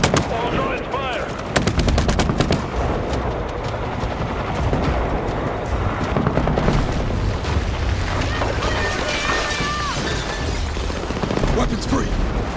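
Night raid gunfire in the Battlefield 6 campaign: dense, loud bursts of automatic fire and crackling shots with rumbling booms, running continuously under shouted voices.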